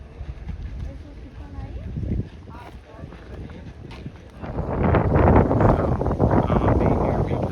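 Wind buffets the microphone at the Chichen Itza Mayan ruins, a loud, steady rumbling roar that swells stronger in the second half, with a person talking underneath.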